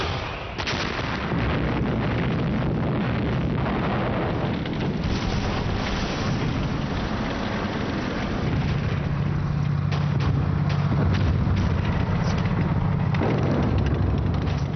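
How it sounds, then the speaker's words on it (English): German artillery opens fire in December 1944, a dense continuous barrage of booms and rumbling blasts that rolls on without a break, loud and distant-sounding, with wind-like noise and no voices. "On December the 16th, 1944, the Germans opened fire."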